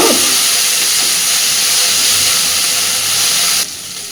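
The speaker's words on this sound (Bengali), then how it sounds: "গ্যাসের ফ্লেমটাকে একদম কমিয়ে দিলাম, কারণ গ্যাসটা বাড়ানো ছিল।" Gas stove burner flame giving a loud, steady broadband hiss close up, which drops sharply in level near the end as the flame is turned right down.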